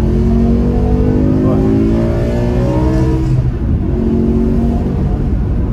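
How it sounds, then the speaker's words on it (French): BMW M6 E63 with its V10 engine revving while being driven, a loud rising and falling engine note heard from inside the car, continuous and dominant, with no talking. "Et t'as toujours le chant du V10."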